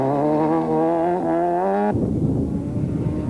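Mitsubishi Conquest rally car at the 1995 Castrol International Rally, stuck with only third and fifth gears working, its engine note climbing loudly up close before cutting abruptly into a rough, noisy roar as it presses on.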